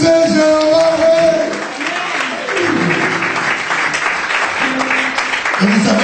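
A church congregation applauds during a French sermon, a dense, steady wash of clapping sustained for several seconds with voices and singing over it.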